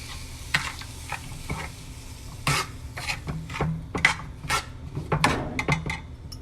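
A spoon stirs milk and a little sugar into a vegan gulab jamun mixture, giving close, irregular scrapes and soft taps against the bowl with a faint low hum underneath.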